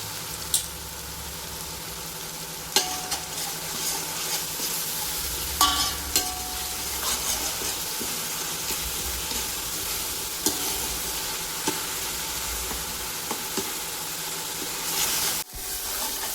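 Ginger, garlic and tomato sizzle and fry steadily in a hot pan for chicken biryani, with occasional clinks and scrapes of a spoon stirring, continuous and close.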